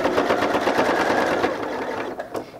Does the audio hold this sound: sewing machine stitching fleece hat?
yes